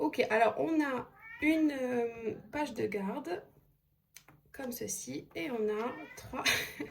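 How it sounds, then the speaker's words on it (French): A small cat meows repeatedly in short and drawn-out cries, close by, mixed in with someone talking, with a short quiet gap partway through. "Je suis désolée pour le petit chat qui miaule."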